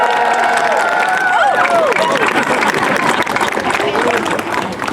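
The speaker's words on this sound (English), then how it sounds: "That deserves a round of applause." Loud crowd applause mixed with cheering and excited shouts at a media day presentation for the Yukon Striker roller coaster at Canada's Wonderland, a dense steady wash of clapping and voices throughout.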